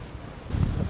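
Strong wind buffets the microphone near the coast around Calais during a bike-packing ride, a low broadband rumble that swells louder in the second half of the short burst.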